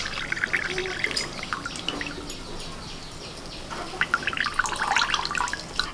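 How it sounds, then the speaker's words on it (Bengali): Water pressed out by hand from soft chhena curd while making Kalakand and Chittaranjan sweets, trickling and dripping in small irregular spatters at close range, with a faint background sound and no talk. "হালকা করে হাত দিয়ে চাপ দিয়ে এইভাবে জলটাকে বের করে নিতে হবে।"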